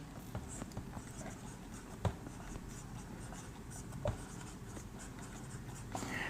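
Chalk or marker scratches across a board during a lesson on Indian citizenship law, with quiet irregular strokes and a few sharper taps, fairly faint in a quiet room and without speech.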